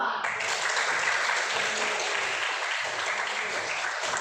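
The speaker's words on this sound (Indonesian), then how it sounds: "Jadi mari kita dulu memberikan aplaus dari kelompok 1, 2, 3, dan 4." Students in classroom groups break into steady clapping, a dense, lively round of applause that holds at even loudness for a few seconds, with a voice faintly under it.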